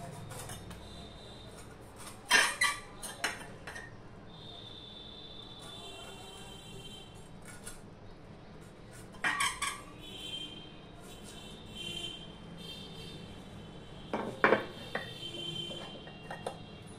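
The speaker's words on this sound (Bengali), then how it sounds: "এবার এগুলো আমি এইভাবে কেটে নিচ্ছি।" A knife slices young jackfruit into thin strips in a kitchen, with three short clusters of sharp cutting clicks and knocks, close by, separated by quieter stretches with faint background hum.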